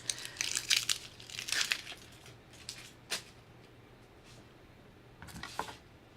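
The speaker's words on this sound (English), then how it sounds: "taking the peeling off, that outer layer" The papery outer layer being pulled off an onion-like vegetable in a kitchen while cooking white chicken chili, a few close crinkling and tearing bursts separated by quiet pauses.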